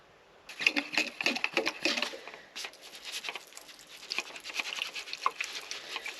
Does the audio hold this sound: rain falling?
yes